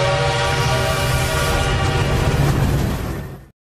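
A train pulls away in a film scene set in Japanese-occupied Korea, a steady loud rumble of rolling wheels and engine with tonal horn-like hum, fading out abruptly near the end.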